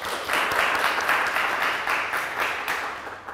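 An audience applauds after a talk at an energy-efficiency event, a steady, full burst of clapping from many hands lasting a few seconds.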